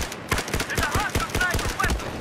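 Rapid gunfire in Battlefield 4, a steady run of close, punchy shots over about two seconds with a faint voice underneath.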